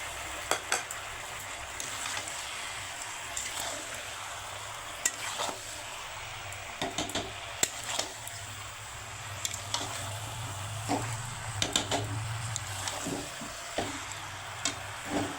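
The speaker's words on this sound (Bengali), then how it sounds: "এখানে আদা রসুন পেস্টটা দিয়ে দেবো।" Ginger garlic paste fries in a pan for a chicken curry, with a soft steady sizzle and repeated scraping clinks of a spoon stirring against the metal.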